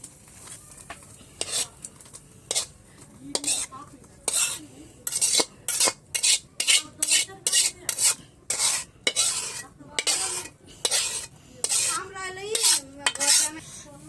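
A utensil scrapes and stirs prawns in a pan with a steady rhythm of sharp metallic strokes, loud and close, over a soft sizzle.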